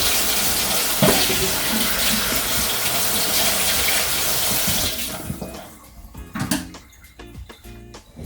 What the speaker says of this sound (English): I have not rinsed and strained my shrimp yet, however. So I'm going to clean it real good.